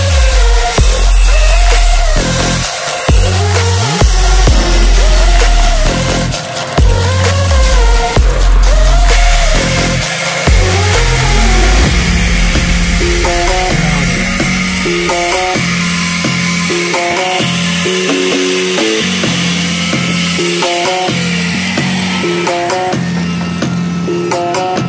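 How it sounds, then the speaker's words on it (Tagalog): Cutting down the speedometer gear on a Honda TMX 125 during a front disc brake conversion, a loud grinding, whining power-tool sound that runs steadily for the whole stretch with changing pitch. "So kailangan pa po nating magtabas dito sa may speedometer gear niya dito mga sir."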